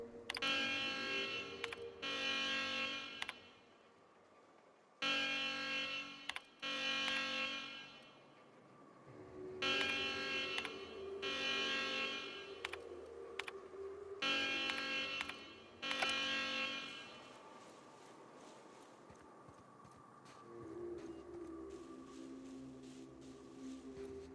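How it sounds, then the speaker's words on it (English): Alarm siren in The Outer Worlds blaring in repeated loud pulsing bursts, a couple of seconds each with short gaps between them, before fading into a lower steady drone. "The alarm."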